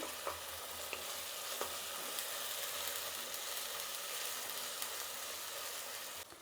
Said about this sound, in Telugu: ఇప్పుడు ఈ పేస్ట్ వేసాం కదా, ఇంకొంచెంసేపు వేయించుకున్నామంటే అప్పుడు ఎర్రగడ్డలతో కూడా ఇది వేగుతుంది